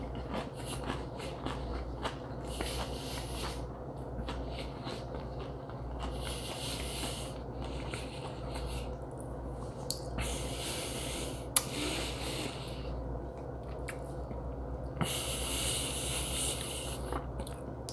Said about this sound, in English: There's nobody to hear me chewing.